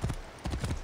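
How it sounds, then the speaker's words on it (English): Hooves of a black horse with ornate gold headgear clip-clopping in Assassin's Creed Origins, a few close, dull thudding steps in quick succession. "The aptly named Stallion of Death is a beautifully creepy black horse, with ornate gold headgear and decorations"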